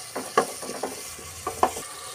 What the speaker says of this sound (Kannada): ಇದೊಂದು ಸ್ವಲ್ಪ ಹಸಿ ವಾಸನೆ ಹೋಗೋವರೆಗೂ ಫ್ರೈ ಮಾಡಬೇಕು